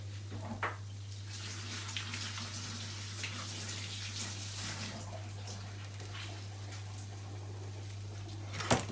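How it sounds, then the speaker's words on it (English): A leek rinsed under a running kitchen sink tap, a steady soft splash of flowing water with occasional louder spatters and a low constant hum beneath, no one talking. "I'm just going to give us a wee wash under the sink."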